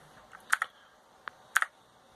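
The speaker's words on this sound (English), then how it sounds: "Keyboard and mouse on the PlayStation 4." Keyboard keys are pressed in two quick pairs of crisp clicks plus a single lighter tap, close and isolated against a quiet background.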